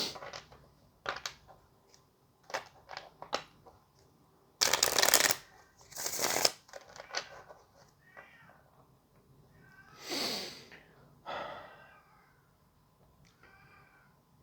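Tarot cards being shuffled by hand, with several bursts of riffling and sliding cards between quieter pauses, close and clear, while a cat meows intermittently in the background and no one speaks.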